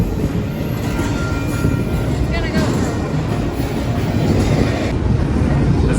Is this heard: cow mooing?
no